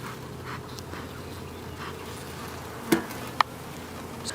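Honey bees buzz around an open beehive during an inspection with new queens, a faint continuous hum close by with a couple of sharp knocks, and no talk.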